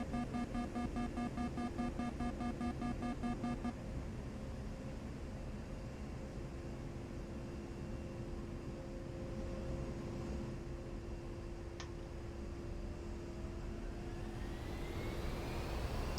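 A-10A jet engines at idle throttle in the flight simulator game DCS World, a steady low roar with a sustained whine, plus a pulsing warning tone for the first few seconds.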